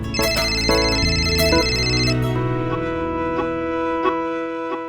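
A melodic phone ringtone plays loudly and repeatedly, a bright electronic tune looping with no voices.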